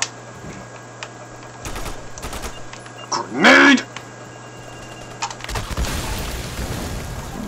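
Gunfire in Army of Two: The Devil's Cartel comes as scattered rapid bursts and single shots, with a louder burst midway and a brief voice among the shooting.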